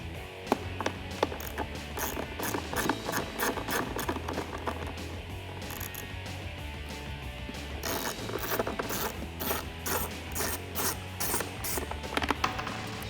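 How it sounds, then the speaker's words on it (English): An 8mm socket on a ratchet clicks in rapid, close bursts while removing the bolts of the old intake box on an F-150 during a Roush cold air intake install. The bursts come in repeated runs with brief pauses between. "we have to remove the old intake box from the dirty air inlet. We do that with our 8mm socket."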